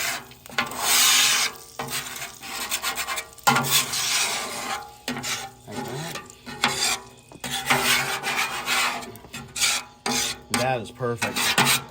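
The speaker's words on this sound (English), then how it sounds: "I'm going to scrape it all into the grease trap, like this." A metal scraper pushes residue across a hot Weber flattop griddle into the grease trap. Close, harsh rasping strokes repeat in uneven bursts with a faint sizzle, and a voice speaks briefly.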